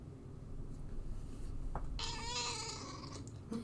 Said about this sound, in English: My cat does voice work because I had to pull her off the keyboard